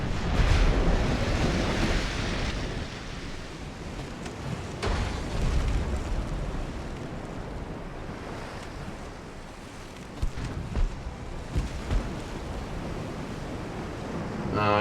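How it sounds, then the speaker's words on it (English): Torpedoes launched from a warship in the naval game Ultimate Admiral Dreadnoughts: a broad, loud rushing splash and surge of water, with wave-like swells over nearly fifteen seconds and a few sharper bursts near the end. "And torpedoes are away."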